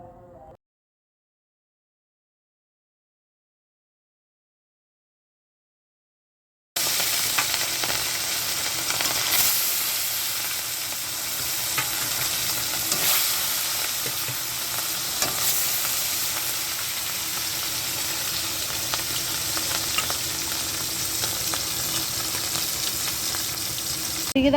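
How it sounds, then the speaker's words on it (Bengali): Fish rubbed with turmeric and salt frying in a pan: after several seconds of silence, a loud, steady sizzle starts and continues with soft stirring and spatter, close up and without talk. "এবার ভাজতে দেবো।"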